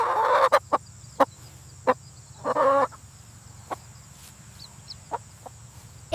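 A chicken gives a few short clucks, followed by scattered sharp pecking or tapping sounds and quiet background hum, fairly close and moderately loud.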